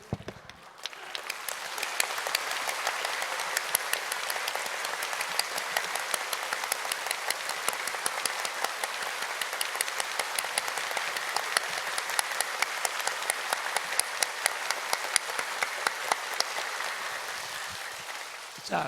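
Long, steady applause fills a church sanctuary as a Sunday congregation claps for its choir, dense and even throughout before tapering off at the close.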